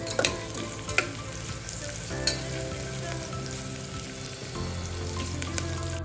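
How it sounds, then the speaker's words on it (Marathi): Sliced onion frying in a pan with bay leaf, sizzling steadily while being stirred, with occasional scraping clinks and scrapes of a utensil close up; no one talks. "कांदा आता छान तांबूस रंग येईपर्यंत परतून घेऊयात।"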